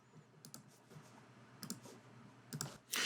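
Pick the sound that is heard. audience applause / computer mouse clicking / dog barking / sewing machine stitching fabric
computer mouse clicking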